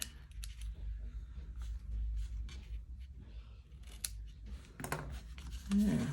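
Scissors trim the ends of a ribbon bow, making a few quick, close snips spread across a quiet moment, with a sharper cut near the end.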